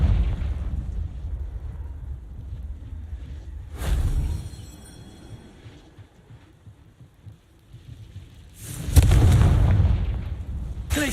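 Confringo explosive spell fired in the video game Hogwarts Legacy: two separate deep booming blasts a few seconds apart, the second louder and longer, over a quiet low rumble between them.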